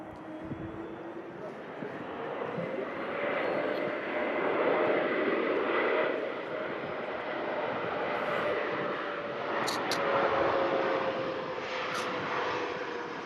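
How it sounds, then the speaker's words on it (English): A KLM Embraer E2 jet inbound from Amsterdam lands at Manchester Airport, and its broad engine roar swells and holds for several seconds as it rolls along the runway, with faint talk underneath. "In from Amsterdam, KLM E2. Super smooth landing there as well."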